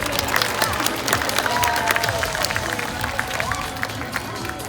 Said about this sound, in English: Bunker really does appreciate all of that applause